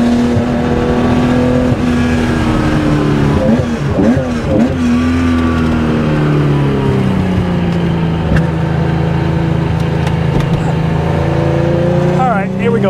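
A 1972 Porsche 911 T with a 2.8L EFI engine revs hard on a race track, a loud, sustained, close-up roar climbing and falling through gear changes toward a high-rpm howl, with someone talking over it.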